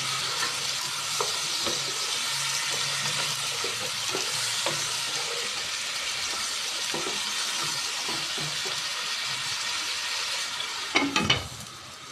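Jackfruit seeds and stems cook in spices in a pan, giving a steady close sizzle with occasional stirring scrapes, ending in a brief clatter as a lid or utensil is handled.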